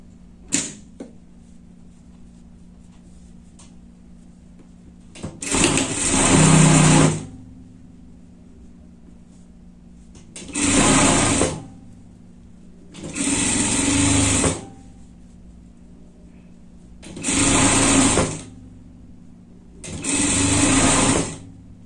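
Sewing machine stitching a safety seam at the start of the ribbing on a small fox-style pet outfit, running in five steady whirring bursts of a few seconds each with quiet pauses between, close and loud.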